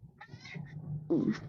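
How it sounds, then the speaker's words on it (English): A pet cat meows close by, a short, rising call followed by a louder, more strained second meow, with no talking over it. "sorry, that's my cat"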